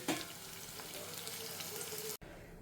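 Tofu frying in a pan gives a steady, dense sizzle that holds at an even level before cutting out abruptly near the end, then continues more softly.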